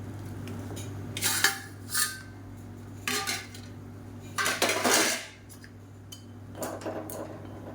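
Noodles, three packets, go into a pot of boiling water for a lunch-box recipe and are stirred, giving a few clinking metal knocks of utensil against pot in short bursts over a low steady hum, with no talk.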